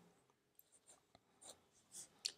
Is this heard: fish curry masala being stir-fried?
no